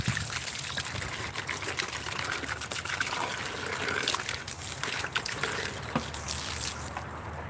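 Water pouring onto repotted strawberry plants in an urban garden, a continuous splashing trickle with irregular spatters, fairly close and moderately loud throughout.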